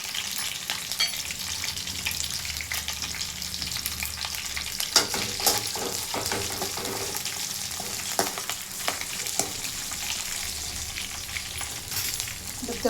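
Cumin seeds and cashews tempering in hot oil in a pan for avalakki hesarubele pongal, giving a steady, close crackling sizzle throughout with scattered brighter pops and stirring scrapes, with no talking.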